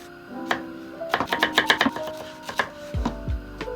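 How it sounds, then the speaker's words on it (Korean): A knife chops zucchini into bite-size pieces on a cutting board, giving a quick run of crisp, close taps in an uneven rhythm, followed by a couple of heavier knocks. "애호박을 반으로 썰고 한 입 크기로 잘라주면 끝이고"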